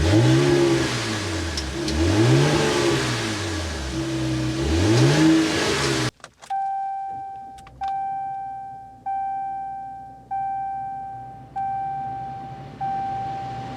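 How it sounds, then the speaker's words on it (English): A 2025 Ram 1500 Big Horn twin-turbo engine rumbles and revs with rising and falling sweeps through its exhaust, then cuts to a series of repeated chime tones, each fading out. "start up this twin turbo so you can hear that exhaust note"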